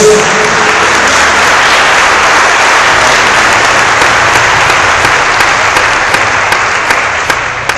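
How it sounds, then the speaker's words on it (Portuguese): Loud, sustained applause from a church congregation during a worship service, a dense wash of many hands clapping steadily for several seconds and tapering slightly at the end. "Dá uma aplauso bem forte ao nosso Deus."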